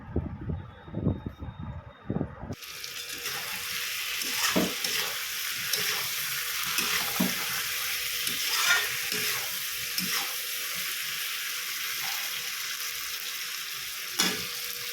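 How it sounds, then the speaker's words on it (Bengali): Tangra fish curry cooking in a wok (kadai), breaking into a continuous, even sizzle and bubbling after a few seconds of quieter clatter at the start, with occasional louder spatters. "কড়াইতে ওনার মাছের ঝোলটা আগে করে নিচ্ছি"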